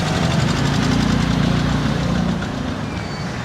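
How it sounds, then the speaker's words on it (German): A motorcycle engine idles close by on a street in Sri Lanka, a steady, loud, throbbing rumble that eases off slightly toward the end, with no voices. "da kommt ein Motorrad gleich"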